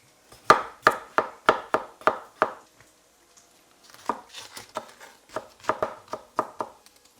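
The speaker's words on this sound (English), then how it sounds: "I'm going to chop this into florets and the potato into pieces" A knife chops cauliflower into florets and potato into pieces on a cutting board. A run of about eight crisp, evenly spaced thunks comes first, then a looser, irregular series of lighter cuts, close up with no talking.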